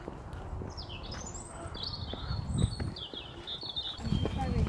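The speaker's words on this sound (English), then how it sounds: "You can even hear the birds chirping." Several birds chirping and tweeting at a distance, with low murmuring voices and outdoor rumble underneath, at Thorpe Park theme park.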